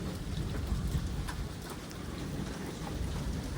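Steady heavy rain pours during a lightning storm in the Chicago metro area, a dense continuous hiss with faint rumbling beneath and no voices.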